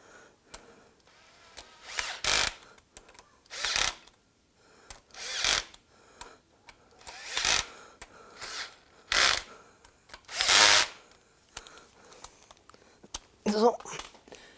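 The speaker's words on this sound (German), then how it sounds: "dann schrauben wir das Ganze mal ein bisschen zu" A power tool drives bolts home while a Skoda Octavia AGN gearbox is fitted after the clutch disc is centred, coming in short, loud bursts of whirring with quiet pauses between them.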